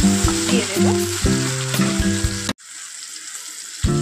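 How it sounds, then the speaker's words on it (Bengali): Onion frying in a pan crackles loudly and close up. Backing music plays over the sizzle and cuts out halfway, leaving the bare hiss of hot oil before the music returns briefly. "পেঁয়াজটা মতো ভাজা হয়ে গিয়েছে"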